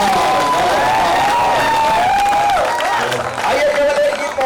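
Audience clapping and cheering fills a Hindi poetry recital hall, a dense, steady wash of applause with shouts and whistles throughout, loud and close, with a voice or tones riding over the crowd.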